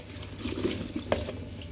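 Tap water runs steadily into a basin or sink while something is washed, a continuous close splashing rush with small gurgles and drips and no voices.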